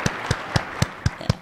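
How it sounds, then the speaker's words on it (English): An audience clapping in a steady, evenly spaced rhythm, six crisp claps in unison, fairly close and moderately loud with no talk over them. "A big round of applause for your president and your government."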